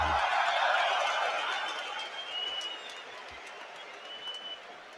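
Football stadium crowd applauding before a match in tribute to a recently deceased club staff member, a broad, distant wash of clapping that swells at first and then slowly fades, with no talk over it.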